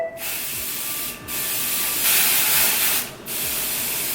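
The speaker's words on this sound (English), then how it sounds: "I'm basically going to use my Ebin tinted lace spray in the color light one brown to spray" Ebin tinted lace spray in light brown sprayed onto wig lace, a loud, close, continuous aerosol hiss broken by two brief pauses between sustained bursts.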